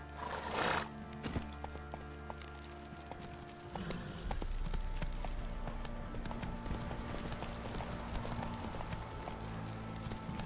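A horse in The Witcher 3 video game: a dense run of clip-clop hoofbeats with a whinny, steady and fairly prominent over game music and ambient sound, with no talk.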